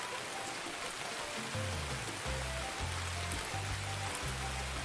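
Heavy rain pours down steadily as a dense, constant hiss, with low engine-like hum and tones rising underneath.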